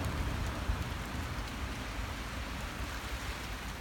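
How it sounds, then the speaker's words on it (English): Heavy thunderstorm rain pouring onto buckets outdoors, a dense, loud, steady roar of drumming drops with a deep rumbling undertone and no voices. "Rain on the buckets."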